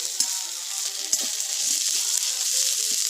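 Onions frying in a small amount of oil in a pan for chicken-feet and tripe chotpoti, a steady bright sizzle with soft stirring clicks throughout, close and moderately loud with no voices.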